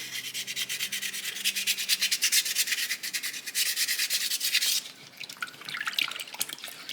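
Blue-backed sandpaper rubbing against carved soapstone in quick, steady back-and-forth strokes, close and fairly quiet, with a short pause and then a lighter scrub at the end.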